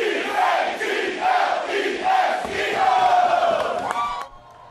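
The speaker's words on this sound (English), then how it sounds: "Fans who made the trip to England are already busy cheering on the Birds" Eagles fans in a London pub near Piccadilly Circus, a loud crowd chanting and cheering in rhythmic swells before the noise cuts away abruptly at the end.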